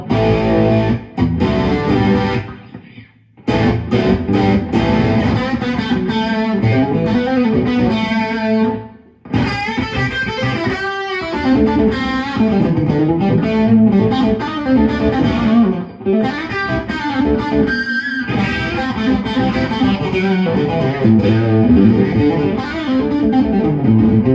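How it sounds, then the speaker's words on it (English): Distorted, overdriven electric guitar played through a Carl Martin Headroom Mini room reverb pedal, with loud, dense chords and riffs that ring on in a roomy wash, broken by a few brief pauses. "That's a nice room reverb."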